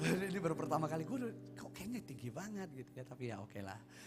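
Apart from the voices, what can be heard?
No distinct noise like a dog, phone or traffic.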